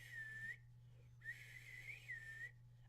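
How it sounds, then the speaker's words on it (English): A person whistles close by, producing short, wavering melodic tones in two phrases separated by a brief pause, fairly quiet over a steady low electrical hum. "Sorry about my whistling."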